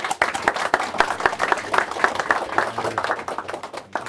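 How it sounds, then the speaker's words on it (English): An audience in a hall gives warm applause after a business presentation, a dense burst of many hands clapping that holds steady for several seconds, fairly close. "I think we should give him a warm applause."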